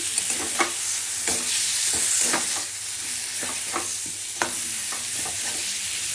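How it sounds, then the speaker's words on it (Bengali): Fried jackfruit is tipped into a creamy curry in a pan, giving a steady close sizzle with several spoon-stirring scrapes and soft clinks scattered throughout, no voices. "ক্রিম দিচ্ছি, এখন কাঁঠাল ভেজে রেখেছিলাম এতে দিয়ে দিচ্ছি।"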